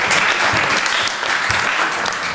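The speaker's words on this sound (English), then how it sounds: "So you get them a round of applause." Loud, dense audience applause fills a theatre-like room, an even roar of many hands clapping close by throughout, with no talk over it.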